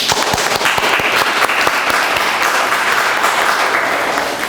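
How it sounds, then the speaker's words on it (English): An audience at a Dublin-Laurens County NAACP round table forum claps loudly and continuously, a packed, even patter of many hands with a few sharper claps standing out. "Everybody who think this was successful, clap"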